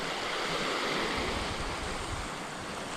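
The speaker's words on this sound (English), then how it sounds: "Wind." Steady, loud wind roars over the open sea off arctic Norway, with broadband surf-like rushing and no breaks across the short stretch and no voices.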